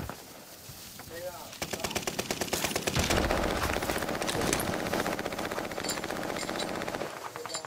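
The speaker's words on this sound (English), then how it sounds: "They're shooting at me from uh the tent right here." Sustained rapid automatic gunfire rattles from an enemy position in a tent in a shooting video game, loud and continuous after a brief lull, with a faint voice underneath.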